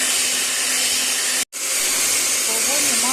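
An electric mixer whips a cream of cream cheese, heavy cream and powdered sugar. It gives a steady, loud whirring hiss that cuts out briefly midway and then resumes, with no voices.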